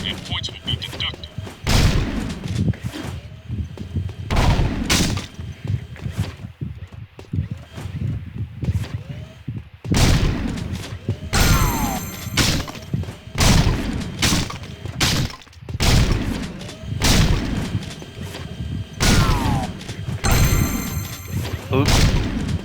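Repeated gunshots at shooting gallery targets in the video game Jak II, sharp bursts in irregular clusters across the whole stretch, with game effects and talk over them.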